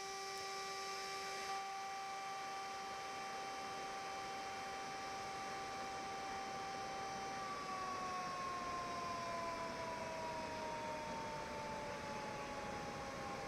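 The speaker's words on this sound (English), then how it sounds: "Sirens are sounded to warn nearby residents" Long, steady wail of dam warning sirens sounded before spillway gates open, with sustained tones that slowly shift in pitch partway through, distant and unbroken over a low background hum.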